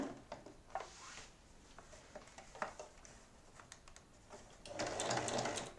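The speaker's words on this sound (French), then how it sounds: "On va venir faire une surpiqûre jusqu'en dessous de l'ouverture." A sewing machine begins topstitching a seam on a large lined fabric pouch, starting with scattered clicks and fabric handling, then a short close burst of rapid stitching at the end.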